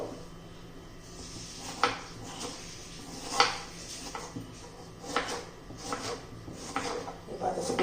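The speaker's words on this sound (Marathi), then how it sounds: "टोमॅटो पण चिरून घ्यायचे थोडा बारीक चिरून घेते" Tomatoes being finely chopped with a knife in a home kitchen, several sharp knife taps against a board at irregular intervals over a low background hiss.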